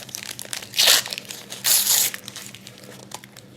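A deck of cards for the board game Orange Shall Overcome being unwrapped, with two loud bursts of crinkling plastic and a scatter of smaller rustles and crackles close by.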